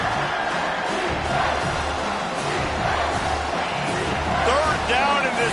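Stadium crowd in an NCAA college football video game against South Carolina, a continuous loud roar of massed voices with scattered shouts rising above it.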